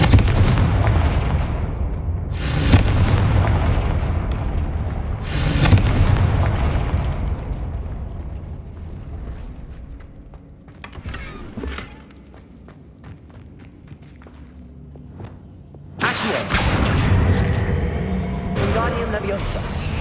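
Confringo fire spell explosions from Hogwarts Legacy on PS5: several loud, booming blasts burst out at irregular intervals over a continuous rumbling game soundscape, with quieter stretches between the louder hits.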